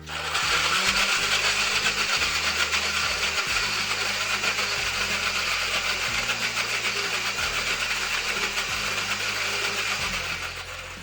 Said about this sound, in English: I'm gonna puree or liquefy whatever's on your blender.